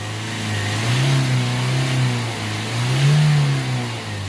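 Ford Transit Custom 2.2 diesel van engine running close by, a steady low drone that swells twice into revs, around one second and again near three seconds, then settles back toward idle. No voices.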